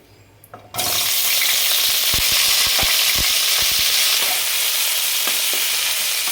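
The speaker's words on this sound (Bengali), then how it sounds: "ফুলকপিগুলো এখানে আমি হালকা ফ্রাই করে নেব" Cauliflower florets, lifted from hot water, lightly frying in a pan for a Bengali do pyaza; a loud, steady sizzle begins abruptly after a quiet moment and holds throughout, with sharp crackling pops scattered through it.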